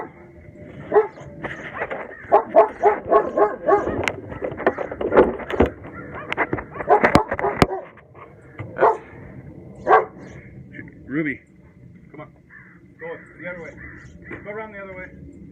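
Several protective dogs bark at someone at the mailbox in a burst of loud, overlapping barks and yips, then quieter scattered barks and whimpers, with a person talking throughout.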